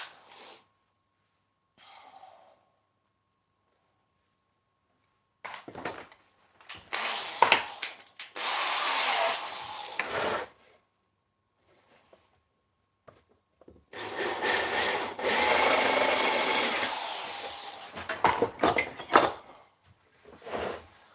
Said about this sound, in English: I'm just going to drive some 6mm dowels in, and I'm going to put screws in as well